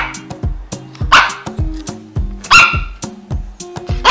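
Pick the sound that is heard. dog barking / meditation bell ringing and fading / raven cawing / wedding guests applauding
dog barking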